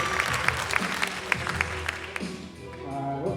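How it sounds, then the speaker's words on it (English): Audience applause for a performer at a comedy hypnosis show in Marshall County, West Virginia, a scattered round of claps with a voice running beneath it, thinning out toward the end. "give her a round of applause"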